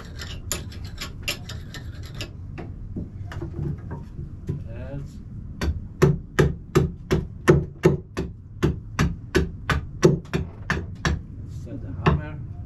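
Regular hammer blows on wood with an adze-making setup, about one per second, crisp and fairly close, with a few scattered knocks before the steady rhythm begins.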